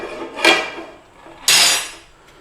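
Two harsh metallic scrapes against a pan while cooking British Indian restaurant style chicken tikka bhuna, the second longer and louder, with no talking.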